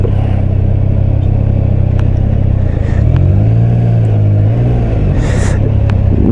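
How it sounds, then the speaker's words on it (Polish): A Triumph Trident 660 motorcycle engine idles steadily up close after a new engine map, its low rumble rising briefly as the throttle is blipped midway, then settling back to idle. "jak go odpaliłem, to słyszę, że inaczej silnik pracuje"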